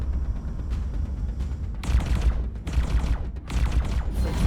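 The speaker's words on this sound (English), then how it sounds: "My turrets are still firing though." Station turrets firing in the space game X4: Foundations, a rapid rattling volley of gunfire bursts and booms that swells in repeated waves, loud and close over a low rumbling background.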